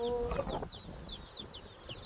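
Several chickens cluck and squawk in a short burst on an organic farm, with fainter bird chirps repeating in the background.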